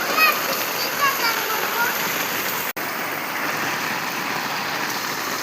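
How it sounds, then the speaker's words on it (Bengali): Heavy rain pours down as a constant, close, broadband hiss and splatter, with a few faint chirps early on and a momentary dropout midway. "দেখতে পাচ্ছ কত বৃষ্টি হচ্ছে আমাদের দিকে"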